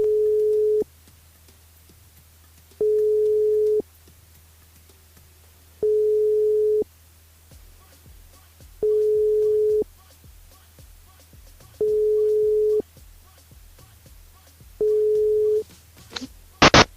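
Telephone line tone on a call to a radio listener, a steady beep pulsing on and off about six times at regular intervals, then a brief click and rattle as the line changes.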